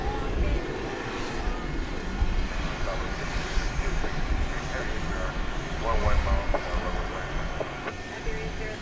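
A UPS MD-11 cargo jet backs up at DFW Airport at night, its engines giving a steady loud rumbling whine that holds throughout under an outdoor hum.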